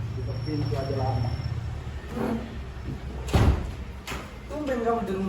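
A door in a house swings shut with one solid, fairly loud thud about two-thirds of the way through, set against steady room noise and some quieter shuffling before and after.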